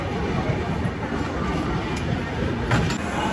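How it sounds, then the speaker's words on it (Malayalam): The Venad Express rumbles through Chengannur railway station, a steady broad roar of rolling wheels and carriages heard close by, with a few faint clanks rising near the end. "വേണാട് ഇവിടെ അങ്ങനെ ചെങ്ങന്നൂർ റെയിൽവേ സ്റ്റേഷനിൽ എത്തിയിട്ടുണ്ട്"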